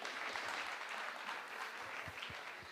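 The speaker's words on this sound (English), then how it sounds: "An applause for Miguel, please." Audience applause at a hybrid information literacy forum, a steady wash of many hands clapping at moderate distance, fading slightly toward the end, with no talk over it.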